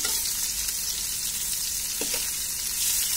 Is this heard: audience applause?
no